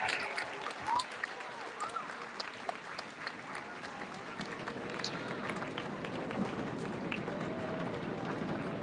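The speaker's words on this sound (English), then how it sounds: "Let's have one more round of applause for all our award recipients today." Audience at a middle school awards celebration applauding award recipients, a sustained patter of many hands clapping that swells slightly toward the end, heard at a distance.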